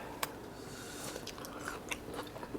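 Crunchy bites and chewing of Haidilao instant hot pot noodles with a tomato-flavored broth, close and quiet, a few crisp crunches scattered over a couple of seconds with no talking.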